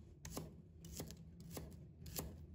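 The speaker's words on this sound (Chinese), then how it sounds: "把葱白切成小段" A knife chops scallion whites into small pieces on a cutting board, four crisp, evenly spaced cuts close by and otherwise quiet.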